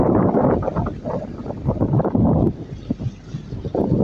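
A large resort boat's motor churns over open sea water amid gusty wind buffeting the microphone, the rumble surging and dipping unevenly.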